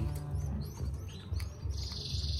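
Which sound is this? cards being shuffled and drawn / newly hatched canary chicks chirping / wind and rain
newly hatched canary chicks chirping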